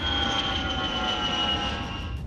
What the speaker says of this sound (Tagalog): sa parabolic flight, may mga kalkuladong maneuver na sinusundan ng eroplano